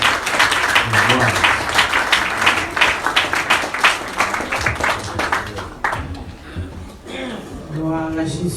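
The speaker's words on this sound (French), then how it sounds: "Nous applaudissons." Congregation clapping together at a worship service during a women's evening praise gathering, dense rhythmic applause for about six seconds, then fading into speaking voices.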